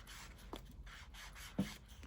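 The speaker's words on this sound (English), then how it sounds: "I'm just going to go round the corners and then just rub it up and down" Walnut stain rubbed onto the edges and corners of a card with a craft applicator, a soft continuous rasping with a couple of brief taps, close and quiet, no voices.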